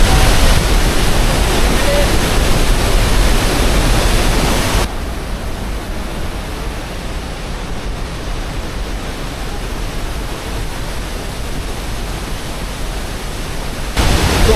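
Hundru waterfall near Ranchi, with water plunging from a great height, makes a loud, steady roar throughout that eases slightly through the middle stretch before swelling again at the end.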